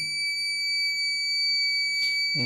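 A digital scale for poultry houses sounds a continuous, loud, high-pitched electronic alarm beep while a setting is being saved, with a brief extra click near the end.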